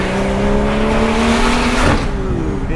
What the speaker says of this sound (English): it's a very nice, strong, smooth acceleration. Smooth. And it sounds so good with the exhaust too